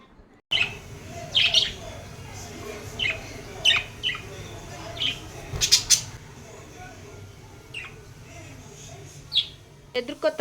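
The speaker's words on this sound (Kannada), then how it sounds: "ಇಲ್ಲಿ ನನ್ನ ಲವ್ ಬರ್ಡ್ಸ್ ಇದ್ದಾವೆ" Lovebirds chirp in short, scattered bursts over a steady low background hum, fairly close and moderately loud.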